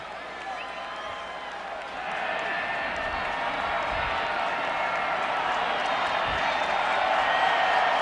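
A football crowd at Jordan-Hare Stadium during Auburn's 2010 home game against Tennessee-Chattanooga gives a steady distant murmur that swells slightly after two seconds into a fuller, continuous roar.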